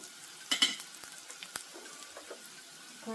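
Onions frying in a pan for a mushroom gravy, a quiet sizzle broken by a few clattering stirs and utensil taps near the start, with no voices.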